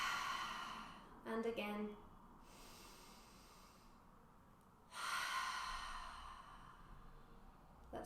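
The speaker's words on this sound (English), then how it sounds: "breathing in through your nose and out through your mouth" A guided breathing exercise in a kids' Toy Story yoga session: a loud exhale through the mouth around the second mark, then a longer breath from about five seconds on, both near, with a brief spoken phrase between them.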